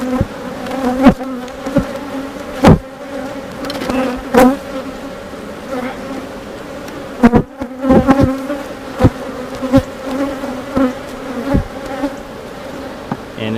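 Honey bees swarm around an opened hive in a dense, steady buzz, with loud individual bees zipping past the microphone every second or so.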